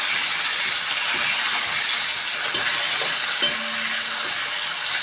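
Slit green chillies and chopped tomato fry in a pan for aloo dum, giving a loud, continuous sizzle with a few light stirring scrapes and no voices.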